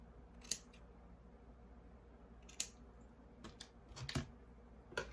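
Scissors snip the frayed end off a piece of craft ribbon, giving a few crisp, close, quiet cuts spaced a second or two apart, with a quick double snip near the end against a near-silent room.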